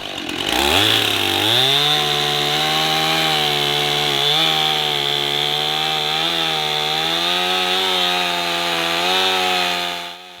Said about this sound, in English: This is why my chainsaw got stuck.